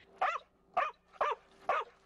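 A search and rescue dog in training barks four times in a steady, evenly spaced rhythm, each bark sharp and fairly close against a quiet outdoor background.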